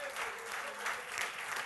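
Church congregation applauding Jesus Christ, a steady wash of many hands clapping at moderate distance for the whole short stretch, with a voice speaking over it.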